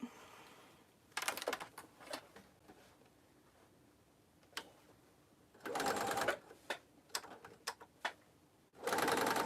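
Sewing machine stitching a tote bag pocket piece, close and fairly quiet, running in several short bursts of rapid mechanical ticking with pauses and light handling noise between runs.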